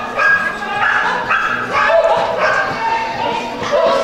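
Beagles barking and yipping in quick, repeated bursts during a winter dog agility competition round, fairly loud and close, with some whimpering and a commentator's voice talking underneath.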